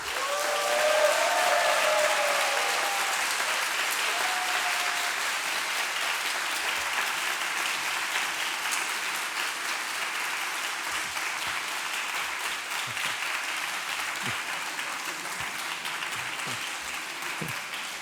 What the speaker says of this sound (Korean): 환영의 박수로 맞이해 주시기를 바라겠습니다.